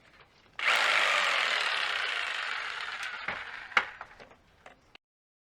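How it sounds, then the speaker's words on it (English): A jigsaw fitted with a hard-wood blade cuts composite siding for a tankless water heater gas vent. The saw starts abruptly and buzzes loud and close for about four seconds, with a few clunks and rattles near the end before it stops. "I got the hardest wood blade for the jigsaw"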